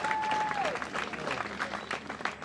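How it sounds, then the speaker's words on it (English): A fairly faint, steady round of applause from a crowd at a youth under-14 basketball tournament honours a coach, with murmuring voices blended underneath. "Let's give him a very big round of applause."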